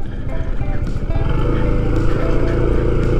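A motorcycle ridden toward a tomb in the sea off Demak, Indonesia: a continuous, close engine drone mixed with wind rush, with no clear talking.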